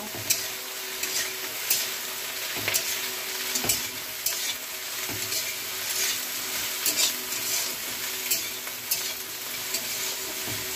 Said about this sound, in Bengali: এবারে লঙ্কা দেব, এই দেখি লঙ্কা। এবার নেড়ে নেব।